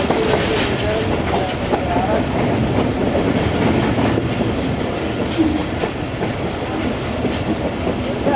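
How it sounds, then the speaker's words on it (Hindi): A Tezgam passenger train rumbles steadily on a long curve as it approaches Khanpur Katora station, a loud, continuous roar of wheels and carriages with faint clickety-clack, heard up close with no talking. "एक लॉन्ग कर्व लेते हुए ट्रेन हमारी अप्रोच बना रही है जी खानपुर कटोरा पर"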